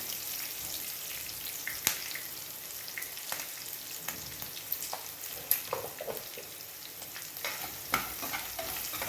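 Lemon rice seasoning with turmeric fries in a pan, with a faint continuous sizzle under scattered sharp clicks and scrapes of stirring.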